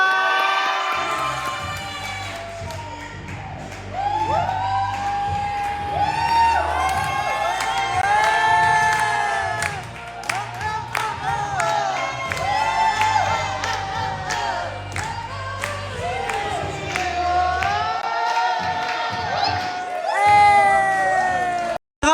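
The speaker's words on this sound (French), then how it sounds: "Merci d'applaudir Clara!" Loud crowd cheering and whooping with shrill cries, whistles and shouts mixed with clapping for a contestant at a drag gala, sustained for over twenty seconds, with a thumping music beat underneath.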